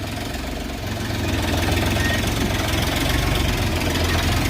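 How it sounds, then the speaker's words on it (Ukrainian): Diesel engine of a Xingtai 244 mini tractor idling during loading, a loud, close, steady knocking rumble that rises slightly in intensity after the first second and holds. "Ось і відгружається наш синтайчик."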